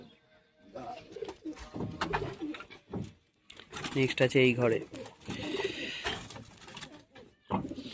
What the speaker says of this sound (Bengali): একটা জোড়া আছে লাল চাপের পায়রা, ম্যাট্রাজি পায়রা।